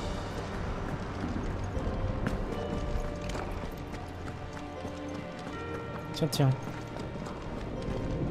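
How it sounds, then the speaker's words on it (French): Clip-clop hooves of Odin's horse galloping in Final Fantasy XVI, steady and close throughout, with someone speaking over them and a brief rising whoosh near the end. "C'est le cheval d'Odin."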